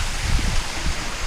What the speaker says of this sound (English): Look at this little mini waterfall.